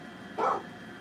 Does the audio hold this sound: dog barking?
yes